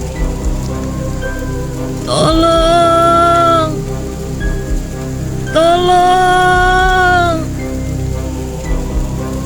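Heavy rain falls in a steady, loud hiss that fills the whole scene, and a voice twice shouts out for help over the downpour.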